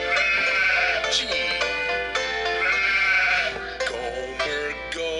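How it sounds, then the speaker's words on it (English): A goat bleats repeatedly in a series of wavering, nasal cries, loud and close, with short gaps between calls and no talking. "Gomer goat, Gomer goat"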